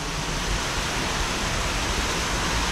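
Natural waterfall fed from the hills behind, a dense, steady broadband roar of falling water, fairly loud and uniform, with no voices over it.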